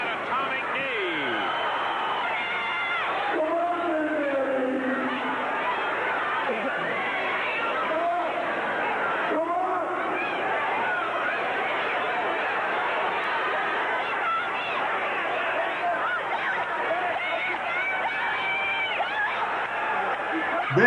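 A big wrestling crowd at the Memphis Mid-South Coliseum roars and cheers steadily through a match, with excited shouts rising over the din while a commentator talks over it.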